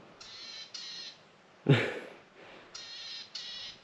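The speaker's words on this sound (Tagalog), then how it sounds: "Iba-ibang tunog ng ibon dito." Several bird calls in sequence: repeated harsh, raspy caws in pairs, with one louder squawk in between, fairly close outdoors.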